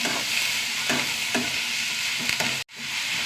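Sliced onions and curry leaves sauté in oil in a pan, giving a steady sizzle with a few stirring scrapes and a brief cut near the end, no voices.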